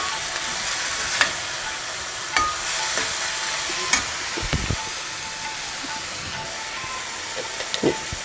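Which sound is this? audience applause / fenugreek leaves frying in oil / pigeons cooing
fenugreek leaves frying in oil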